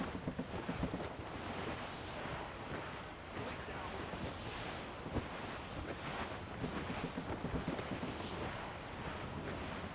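A sailing ship moves under sail through wind and open sea in the Assassin's Creed Rogue video game. Wind roars and waves wash in a steady, dense rush, with faint voices mixed low underneath.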